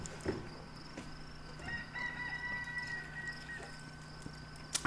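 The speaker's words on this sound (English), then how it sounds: "As you hear the rooster crowing in the background" A rooster crows on a farm, one drawn-out call that is faint and distant against quiet outdoor background noise, with a few soft knocks nearby.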